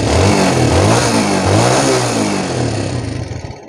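A Yamaha Jupiter motorcycle with a carburetor revs hard after a throttle pull, its engine note loud and close, holding steady and then easing back toward idle.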